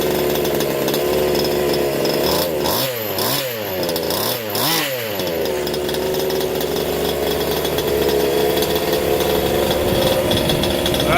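Gas engine of a Losi DBXL RC buggy runs loud and steady throughout, with a throttle rise and fall around the middle giving a buzzing, revving sweep before settling back to a constant drone.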